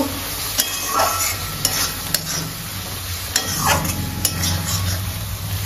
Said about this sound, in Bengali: সামান্য হিং দিলাম, আবার একটু নাড়িয়ে নেব।